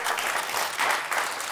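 Steady audience applause at a comedy contest show, a dense, even patter of many hands clapping without pause, fairly close and moderately loud.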